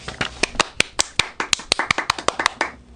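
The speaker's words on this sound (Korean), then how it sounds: "아이들은 모두 현규 아빠에게 박수를 쳐주었습니다" Children clapping for a father wearing a red necktie make a run of sharp, separate claps that fall at an uneven rhythm, close and loud, with a few of them grouped together and a soft voice heard near the end.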